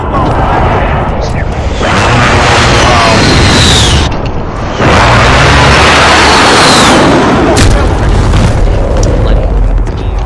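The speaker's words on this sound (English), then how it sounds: "Enemy precision airstrike, take it!" Precision airstrike explosions in Call of Duty Modern Warfare roll in as loud, sustained booming blasts in two heavy waves, with people talking throughout.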